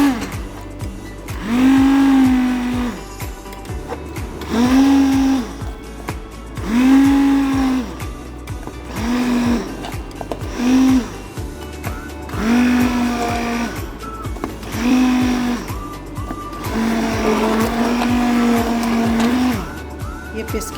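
A mixer grinder runs in a home kitchen in repeated loud whirring bursts of a couple of seconds each, pitch dipping and rising as it grinds, with brief pauses between pulses.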